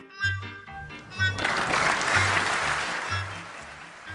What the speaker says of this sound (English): He applauded his own shots